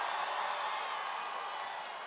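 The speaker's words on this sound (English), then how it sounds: "This is a rambunctious crowd." Rambunctious rally crowd at a political event in Tucson, Arizona, a steady wash of cheering and applause from many people at a distance, sustained and even throughout.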